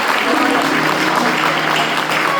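A church congregation claps continuously, a dense, loud, even wash of applause filling the room.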